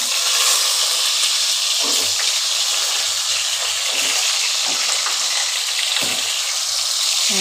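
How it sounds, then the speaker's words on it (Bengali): Whole pointed gourds frying in hot oil: a loud, continuous crackling sizzle fills the whole stretch, broken by a few brief stirring bumps, with no one talking. "এবার আমি পটলগুলো দিয়ে দিচ্ছি এক এক করে। গোটা পটলগুলোকে আমি লাল লাল করে ভেজে নেবো আগে।"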